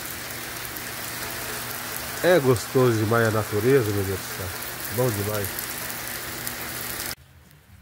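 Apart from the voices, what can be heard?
rain falling outdoors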